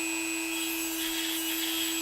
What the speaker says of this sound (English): This is the power of the Dremel 4000.